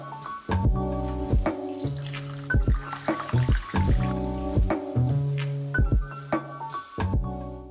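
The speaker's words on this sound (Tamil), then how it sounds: "இதை வந்து நல்லா அலசிட்டு ஒரு அரை மணி நேரம் பக்கம் ஊற வச்சுக்க போகிறோம்." Basmati rice being rinsed in water in a kitchen, with rhythmic splashing and sloshing strokes in quick succession, close and fairly quiet, without talk.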